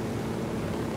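Steady engine and rotor drone of a helicopter in the video game Ghost Recon Wildlands, set in Bolivia, heard alone as a brief, even roar.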